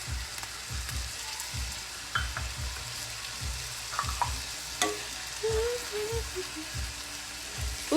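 Sofrito frying in a pan makes a steady close sizzle with crackles and pops, over repeated low thumps and an occasional clink of a utensil, and no talking.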